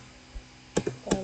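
A few soft key taps on a computer keyboard come as a password is typed. There are three or four quiet, close clicks with faint background hum.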